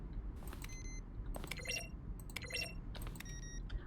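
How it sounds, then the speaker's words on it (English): Button presses from The Stanley Parable, each a keyboard keystroke blended with a synthesized tone, arrive as four short, bright chimes spaced roughly a second apart over a steady low hum. "A selection of the sounds used through the game when buttons are pressed. Each sound is a mix of a keyboard stroke and a synthesized tone."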